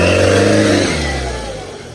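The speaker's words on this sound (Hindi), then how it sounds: "अब आ रही है 4x2 स्कॉर्पियो।" A 4x2 Scorpio SUV on an off-road course, engine revving loudly up close and then easing off as the pitch drops and the sound fades slightly.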